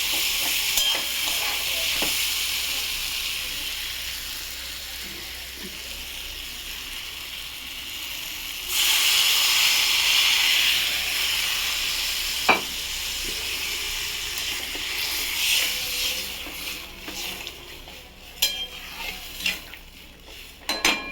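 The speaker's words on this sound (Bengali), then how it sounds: "এবার আমি এর মধ্যে জল ঢেলে দেবো" Water hits hot spiced oil in a pan for a tangra fish curry and sets off a loud, hissing sizzle partway through, following a steady quieter frying hiss. Occasional clinks of a utensil sound near the end.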